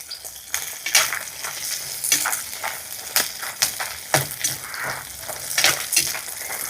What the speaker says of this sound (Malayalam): ഉള്ളിയും വെളുത്തുള്ളിയൊക്കെ ഇട്ട് ചെറുതായിട്ടൊന്ന് വഴറ്റിയെടുത്തിട്ടുണ്ട്